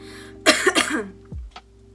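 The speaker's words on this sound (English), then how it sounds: "it was kind of like I would cough like that" A single close, harsh cough from a person with walking pneumonia bursts out with a rough throaty follow-through, then a short low thump and quiet.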